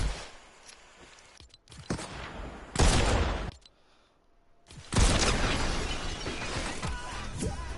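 A mammoth pistol fires in Fortnite gameplay amid a loud burst of gunfire, with sharp shots and a heavy blast near the end, all alone with no talk.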